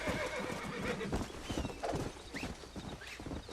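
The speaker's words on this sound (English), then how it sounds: "Come on, horse. Come to me." Horse in the Red Dead Redemption video game, hooves clip-clopping busily with a whinny mixed into a dense, continuous game soundscape of other noises.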